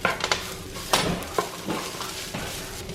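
Spoon scraping and stirring tomato paste into meat in a pan, with soft intermittent clinks and scrapes over a low sizzle.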